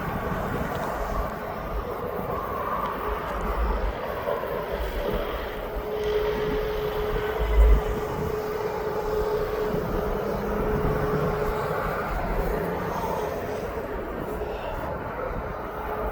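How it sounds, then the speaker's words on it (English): Police aircraft coming in to land at East Midlands Airport, a steady broad engine drone rumbling at moderate distance throughout, with a thin tone briefly rising mid-way and a small low bump near the middle. "we have got the police plane coming in behind us."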